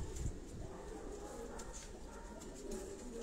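Pigeons in a breeder cage on a rooftop loft in Karachi coo softly and repeatedly over a steady background hum, with scattered wing and foot shuffles nearby.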